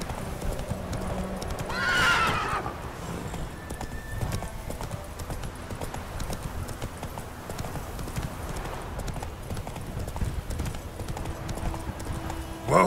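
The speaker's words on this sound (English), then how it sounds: "Whoa there, Roach" A horse ridden in the Witcher 3 video game gallops with steady, continuous clip-clop hoofbeats, and a loud whinny rings out near the start; the hooves carry on evenly throughout with nothing else over them.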